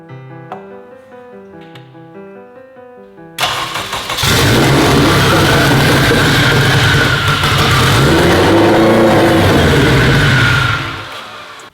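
Turbocharged Honda Civic Si engine catching after a few seconds of quiet tonal music, then running loud and steady at a rough idle, with small rises and dips in revs before fading near the end.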